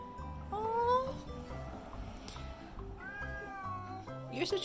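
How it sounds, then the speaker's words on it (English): A cat meows several times in a domestic setting, drawn-out rising and falling calls at moderate volume, with soft background noise and faint voices. "You're such a pretty cat."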